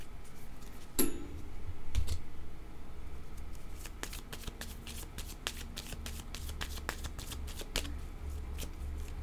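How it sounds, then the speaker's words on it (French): A deck of tarot cards is shuffled in quick, crisp riffles and taps, close and fairly quiet, with a few louder handling knocks at the start. "Là, je cherche mon jeu de cartes."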